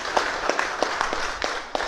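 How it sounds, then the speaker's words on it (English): Audience at a live Powur Energy solar presentation applauding, a steady patter of many hands clapping in a room, fairly loud and even, with no voices over it. "Hell yeah, that's an applause."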